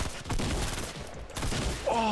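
Assault rifle burst in a video game: a rapid rattling volley of shots fairly close, fading into scattered noise, followed by a brief tonal game sound at the end.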